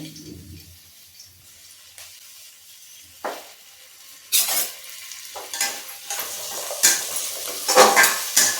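Sliced bitter gourd fries in a couple of spoons of oil in a pan while a spatula stirs it, giving intermittent scraping and clattering bursts over a soft sizzle that grow busier and louder toward the end, with no talking.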